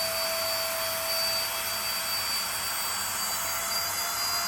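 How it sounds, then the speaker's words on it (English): An electric pump pulls air out of an Airback travel backpack to compress it, giving a steady, loud, continuous whirring drone with a high whine that holds evenly throughout, alone with no talk. "if you use this pump and you put it here and you press the button, you can start sucking the air"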